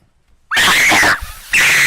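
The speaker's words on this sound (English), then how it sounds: "the speedrunner lets out one final scream" A person screams loudly and close in two long, strained bursts separated by a short gap, with a near-silent lead-in before the first cry, as a speedrunner's final scream in a Minecraft video.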